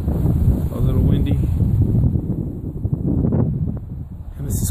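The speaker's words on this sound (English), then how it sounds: "A little windy." Wind blows strongly across the microphone at Lake Osbourn Park, a loud continuous low rumble with gusty buffeting, while a person speaks briefly over it.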